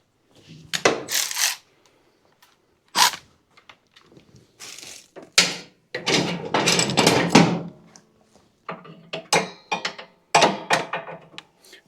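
Wrench work tightening a 9/16 head nut on a riding mower's steering assembly, heard as bursts of metallic clanks, scrapes and ratcheting knocks in separate clusters, close and fairly loud with quiet gaps between.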